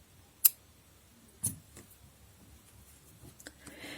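Scissors snip crochet yarn with two crisp, close cuts about a second apart, followed by faint small clicks and handling sounds in a quiet room.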